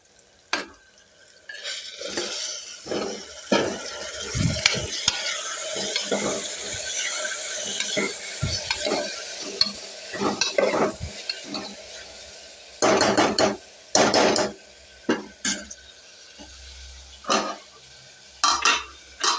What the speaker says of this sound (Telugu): ఇప్పుడు టమాటా ముక్కలు వేద్దాము